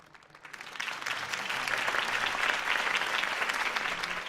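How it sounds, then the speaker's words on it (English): Crowd applause after Harvey Dent's campaign speech in the Batman Telltale game swells up from near silence into steady, sustained clapping from a large audience, with no voices over it. "could have heard that applause"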